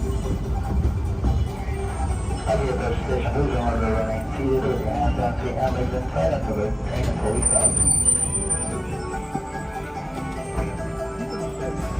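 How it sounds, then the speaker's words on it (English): A Disneyland Railroad train runs fast along its track, with steady rumbling and wheel squeal close by throughout, while people talk over the noise. "So this train is going a lot faster than we normally see."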